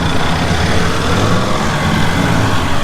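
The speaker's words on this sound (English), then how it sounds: "Man, that car sounds good, don't it?" A car engine idles and rumbles nearby at a summer car meet, a steady low drone holding for a few seconds with no talking.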